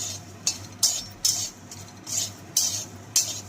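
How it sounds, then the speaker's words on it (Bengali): Nigella seeds and dried red chillies dry-roasting in a pan, stirred with a metal spoon that scrapes and clinks against the pan in a regular rhythm of about six strokes over a soft background hiss. "কালো জিরে আর শুকনো লঙ্কাটাকে ভালো করে নাড়াচাড়া করে লাল লাল লাল লাল করে ভাজতে হবে"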